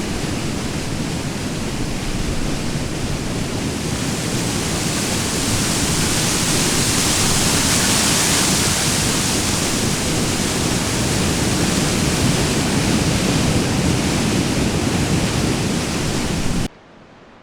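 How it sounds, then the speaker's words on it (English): Steady, loud rushing roar of a waterfall and river flowing through a long canyon in Yellowstone, a dense, unbroken wash of water noise that cuts off abruptly at the end. "after passing over an amazing waterfall, the waters flowed along the inside of a 32-kilometer-long canyon"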